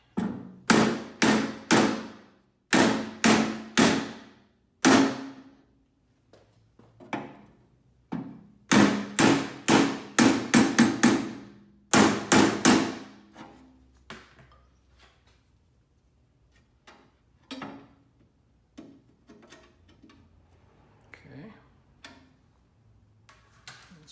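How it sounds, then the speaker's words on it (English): Hammer and dolly strike sheet metal on a vintage Skilsaw 825 box during a rebuild, with dense bursts of sharp metallic taps in quick clusters. The blows then thin out into sparser, fainter knocks. "Hammer for a dolly."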